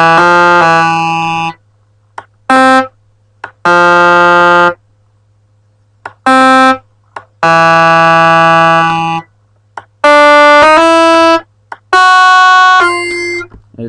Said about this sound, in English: if we wanted to make a really basic melody line in C